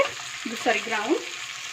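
Ground masala powder is stirred into hot oil while cooking tofu brown rice biryani, giving a soft, steady sizzle. A few brief scraping stirs come close by, with no speech.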